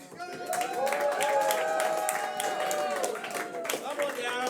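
Audience clapping at a comedy roast battle in a bar venue, a steady wash of applause and crowd noise with shouting and cheering voices over it, continuous and fairly loud throughout.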